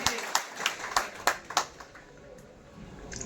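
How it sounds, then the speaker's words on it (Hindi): At a spiritual festival gathering, a handful of sharp, scattered hand claps welcome a speaker. They come in an irregular burst over the first second and a half, then die away into quiet room noise. "जोरदार तालियों से उनका स्वागत कीजिएगा"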